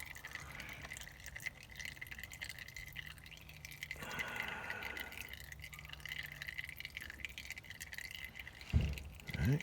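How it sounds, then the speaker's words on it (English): Engine oil draining from a 2017 Nissan Altima into a pan, a faint steady trickle and drip that runs on quietly and unbroken, ending in a brief clunk near the end. "So we're gonna let it all drain out."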